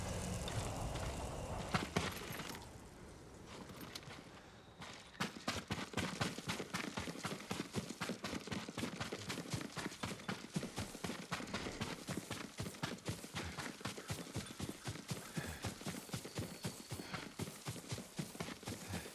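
Rapid, rhythmic hoofbeats of a horse clip-clopping at a brisk pace in the video game Ghost of Tsushima, close and steady, starting after a short stretch of ambient noise.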